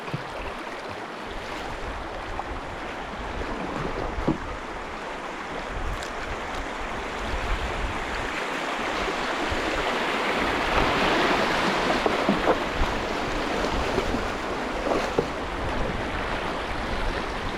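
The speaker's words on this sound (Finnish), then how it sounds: "Ai että mukavan näköinen koski," Rapids on the Oulankajoki river in Finland, a steady broadband rush of churning water that holds constant throughout and swells slightly louder toward the middle, with light wind noise against the microphone and no voices.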